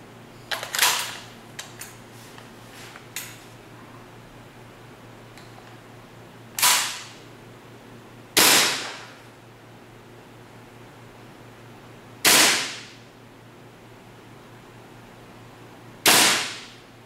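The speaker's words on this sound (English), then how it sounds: "And now, the M16A3 with .2 BB and green gas." Sharp, loud shots from a WE M16A3 open-bolt airsoft rifle firing .2 g BBs on green gas, a quick cluster of cracks followed by four widely spaced single shots over faint background hiss.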